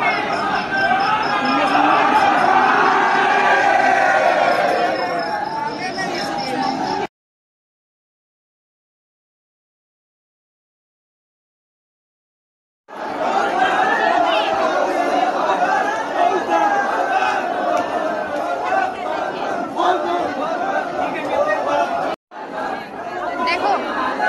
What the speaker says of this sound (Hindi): ज्यादा तो लड़का लोग का भीड़ है।